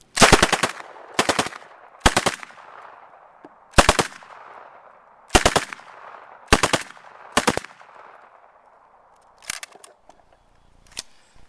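An Uzi submachine gun, the Israeli sub-gun of the 1967 Six Day War, fires in full auto: about nine short, loud bursts of rapid shots, each followed by a brief echo, with pauses between them and no talking.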